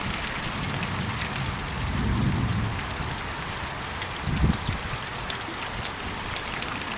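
Continuous soft hiss of rain falling on surfaces, fairly quiet and even, with a couple of brief low rumbles in the background.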